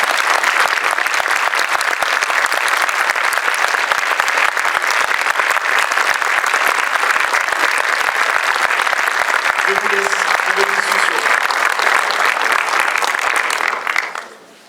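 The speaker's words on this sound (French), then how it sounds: "des tonnerres d'applaudissements pour Isabelle Nanty" Thunderous applause greets actress Isabelle Nanty on a television show set, a thick, even wall of clapping from the audience that holds for many seconds and then cuts off abruptly.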